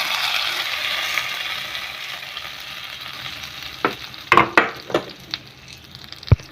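Spices for mango pulissery sizzle and crackle in hot oil, a steady frying hiss joined by a few sharp pops and spoon clinks toward the end.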